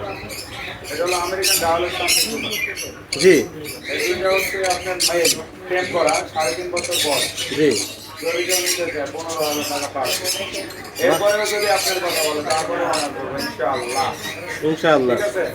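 Parrots squawk and chirp continuously inside a bird shop at a Bangladeshi bird market, busy and close, while people talk over the birds throughout.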